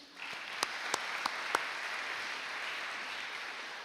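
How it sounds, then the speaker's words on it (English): Applause at a high school sports awards ceremony, a soft, distant patter of clapping with a few sharp, louder claps standing out near the start. "Please join me in giving them another round of applause for their continued commitment to our students"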